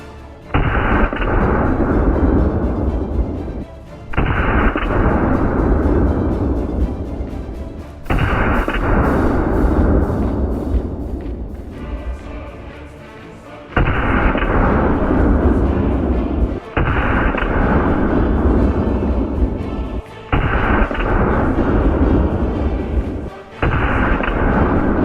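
A TT-33 Tokarev pistol fitted with a compensator fires at a range, sending out a series of loud, booming shots spaced a few seconds apart, each one trailing into a long echoing decay.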